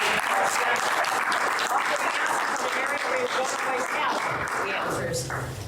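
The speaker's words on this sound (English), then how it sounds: "Let's give our panelists a round of applause." A luncheon audience applauds panelists after a discussion on climate and sustainability: steady, full-room clapping that stays loud and even throughout, with faint crowd murmur beneath.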